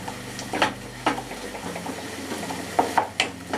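Onion and ginger-garlic paste being sautéed in a pan for a Mughlai chicken handi, soft sizzling under a few sharp spatula scrapes and knocks against the pan at an uneven pace.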